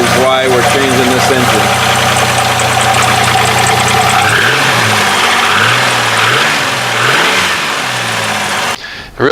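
A Chevrolet Camaro project car's engine idles roughly with a heavy knocking from rod knock or piston slap, loud and close, rising briefly into revs partway through, with speech over it.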